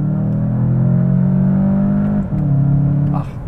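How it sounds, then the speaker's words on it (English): A 2019 VW Jetta GLI engine revs hard in second gear after a quick downshift, a loud droning pull that briefly dips mid-run before surging again, heard from inside the car. "let me downshift quickly into second and floor it"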